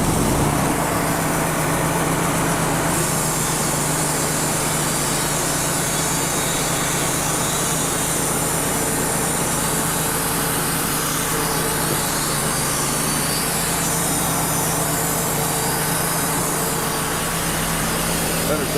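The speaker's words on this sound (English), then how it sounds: "I'm just going to saw off this knot and that other knot." A sawmill blade cuts knots off a log to make campfire wood, giving a loud, steady mechanical drone with a continuous engine hum through the whole stretch, with a voice heard over it.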